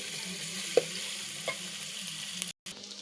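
Onions and chilies frying in a pan for a silver carp curry, a steady close sizzle with a few light utensil clicks against the pan and a brief gap near the end.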